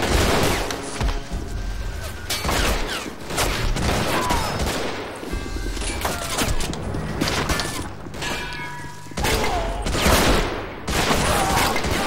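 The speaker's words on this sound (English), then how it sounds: "First shots have been fired" Dense, continuous gunfire fills a World War II battle during Operation Overlord in the video game Men of War: Assault Squad, with rapid rifle and machine-gun bursts and occasional heavier booms, loud and close throughout.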